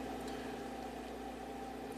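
A 2012 Kia Forte engine with a limp-home fault idles high at about 1,700 RPM, giving a steady, even hum with a constant tone throughout and no voices.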